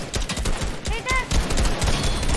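Rapid bursts of gunfire crackle through a Fortnite match, with shots coming in quick irregular volleys and a faint ringing tone, while a player talks over the shooting.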